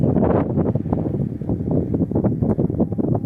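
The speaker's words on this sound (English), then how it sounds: "It is so windy here right now." Strong wind buffets the microphone with a loud, continuous rumbling roar that gusts and flutters throughout.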